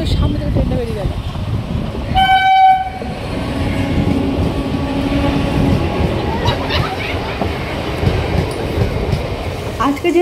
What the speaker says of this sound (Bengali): ট্রেনটা যে চোখের সামনে থেকে ট্রেনটা বেরিয়ে গেল।